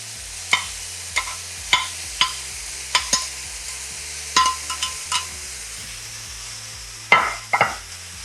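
Thinly shaved beef stir-fries in a pan with a steady sizzle, broken by a regular series of sharp scrapes and clinks from the utensil pushing the meat around, close and moderately loud, with no talk.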